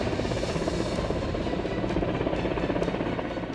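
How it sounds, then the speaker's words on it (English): An Indian Air Force helicopter flies over the hills during a rescue mission near Gangotri and Yamunotri, its rotor and engine making a steady, dense drone that holds loud and unbroken throughout. "officers from Indian Air Force flew their choppers to rescue people"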